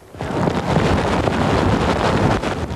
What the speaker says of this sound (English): The wind isn't blowing or gusting, it's thrashing